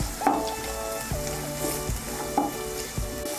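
Chopped beans fry in a pan for fried rice, a soft steady sizzle under periodic clinks and scrapes of a metal spoon against the pan, close by and fairly quiet.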